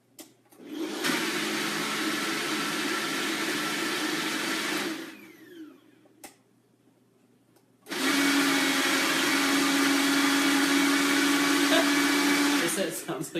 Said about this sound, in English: That's how powerful this blender is.